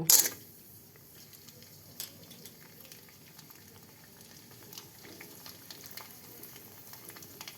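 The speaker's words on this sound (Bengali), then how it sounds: "তেল গরম হয়ে গেছে এখন ফুচকা দিয়ে দিব" Steady crackling sizzle of phuchka puris frying and puffing in hot oil in a kadai, with a sharp clatter at the start and small pops throughout.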